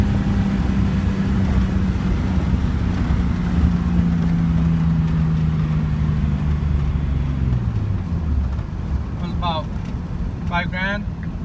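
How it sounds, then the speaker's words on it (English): A turbocharged Datsun 280ZX running on Megasquirt at 6 PSI without an intercooler drones steadily from inside the car, its engine note sliding lower as it slows, with wind and road noise and a couple of brief chirps near the end. "this is a video of a drive with the turbo NA 280ZX engine on Megasquirt"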